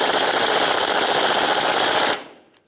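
An 18mm socket and wrench snugging a rear shock absorber nut on a 1992-1996 Ford F-150, heard as a dense, steady mechanical rattle for about two seconds that cuts off abruptly, close and loud.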